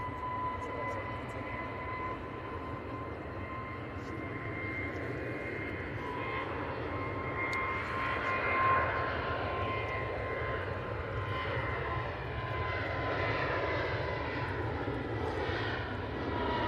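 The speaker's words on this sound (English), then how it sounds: "If you want to see Nigel that's going to LAX 777, that'll be going past in a minute" A jet airliner passing at Manchester Airport, its broad engine roar rising slowly to a peak and holding steady at a distance, with faint voices talking underneath.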